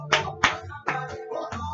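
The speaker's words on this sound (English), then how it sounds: "Clap your hands if you believe you are here." Members of a worship congregation clap their hands in a loose, uneven rhythm, five or six sharp claps that sound fairly close.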